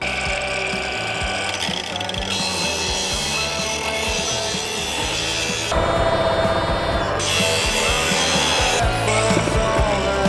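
A ProCraft Industrial AG 125C angle grinder cleaning a weld seam, a loud, continuous whining grind with shifting pitch and rough scraping as the disc works the metal, with no speech.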